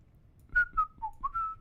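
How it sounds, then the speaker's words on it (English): A person whistles a short, close melodic phrase of about four or five clear notes, gliding slightly between pitches, alone over faint room noise. "I shouldn't whistle. That's going to sound awful on the stream."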